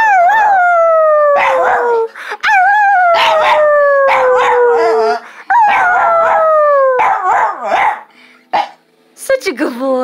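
A dog howls in long wavering cries, three drawn-out howls in a row followed by shorter yips and whines. The sound is loud and close, with no speech over it.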